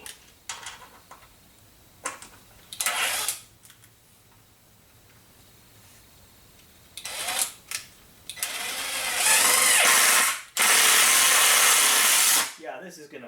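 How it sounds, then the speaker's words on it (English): A power drill pre-drills holes in a wooden workbench under construction. A few short whirs come first, then two long, loud, steady runs close by, with no talking. "Gotta pre-drill it."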